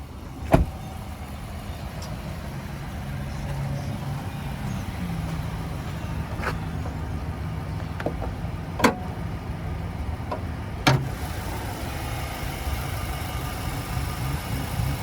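A 2021 Nissan Titan Pro-4X's 5.6-liter V8 runs at a steady idle, a continuous low rumble broken by a few sharp clicks and knocks nearby.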